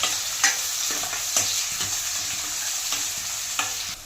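Finely chopped onions and green chillies frying in hot oil for gongura chicken, a steady close sizzle broken by regular spatula scrapes and taps roughly every second.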